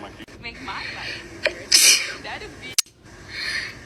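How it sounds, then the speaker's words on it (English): Repeated sneezing from a person with a nasal feeding tube: a few sharp, close sneezes in quick succession, with gasping inhales and sniffles between them. "I couldn't stop sneezing."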